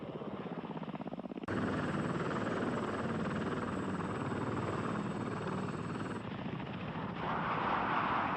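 Lockheed AH-56 Cheyenne attack helicopter flying, a steady loud rotor and turbine roar that swells sharply after a quieter opening, with a thin high whine holding through most of the pass and no speech.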